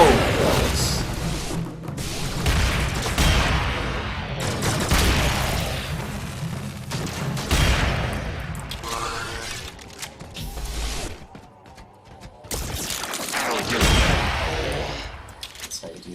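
Pistol gunfire in the combat game Avalanche Offensive, dense bursts of shots and crashing impacts layered over loud game action for most of the stretch, easing briefly near the end.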